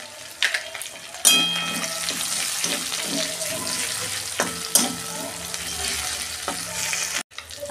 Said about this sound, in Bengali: কালো জিরে দিয়ে দিচ্ছি।